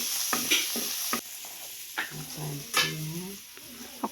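Onion sizzles in oil in a pan, close by, under a constant bright hiss, with a few sharp scraping stirs and some softer rustling movement in between.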